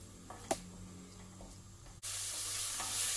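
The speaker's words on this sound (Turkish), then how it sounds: "önce soğan sarımsağımızı kavuracağız" Steady sizzling of onion and garlic sautéing in a hot pan, with a stir and clink early on, then a louder, constant fry hiss.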